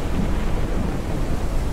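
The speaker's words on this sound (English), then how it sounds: "I love thunder." Thunder rumbles in a survival video game, a loud, dense roll of low noise that lasts the whole moment without any speech.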